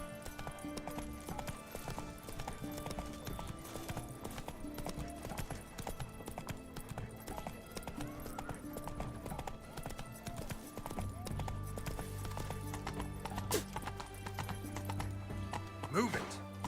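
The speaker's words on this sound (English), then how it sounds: "Run, Roach" Roach the horse gallops in The Witcher 3, its hooves clip-clopping in a steady rhythm under game music and ambience, with voices speaking over it.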